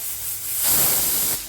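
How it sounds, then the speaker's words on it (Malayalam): Steam escapes from a pressure cooker cooking spiced beef in a loud, breathy hiss that surges up and holds for about a second before easing off. "അപ്പോൾ വിസിലൊക്കെ വന്നു കണ്ടില്ലേ"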